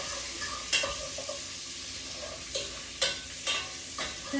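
Bacon sizzles quietly in a pan with a soft, steady crackle, interrupted by a few clinks and scrapes from a utensil.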